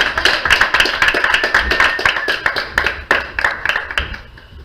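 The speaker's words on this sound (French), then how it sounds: "On l'applaudit!" An audience applauds a performer called up to read at a French literary evening. Steady, close hand clapping rolls on for several seconds, then tapers off with a few final claps.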